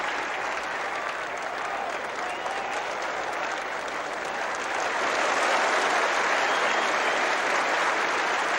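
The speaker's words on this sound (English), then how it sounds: "The applause for Redpath's throw from the deep and for the very good running by the New Zealanders" A large cricket crowd at the 1974 New Zealand versus Australia second Test applauds a throw from the deep and good running between the wickets, with dense, steady clapping that swells slightly toward the end and carries on throughout.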